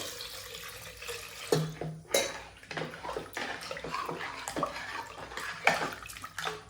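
Water poured into a cooking pot for rasam in a home kitchen, splashing and trickling with a few metallic clinks of pots and utensils, close and moderately quiet, no talk.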